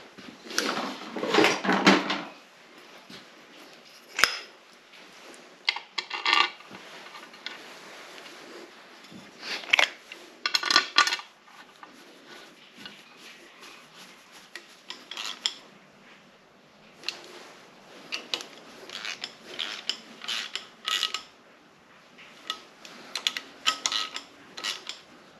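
Small metal bolts clink and rattle as they are fitted and tightened on the timing cover of a 2005 GM 3100/3400 V6 engine going into a 1994 Grand Prix SE, with scattered close taps and ratchet clicks over a quiet garage background.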